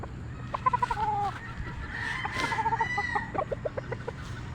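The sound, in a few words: golden boy sweater gamefowl rooster clucking and crowing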